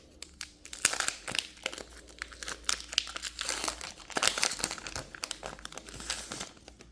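A foil Pokémon card booster pack from the 151 set is torn open and crumpled, making steady close crinkling and rustling throughout with a few sharper tearing bursts.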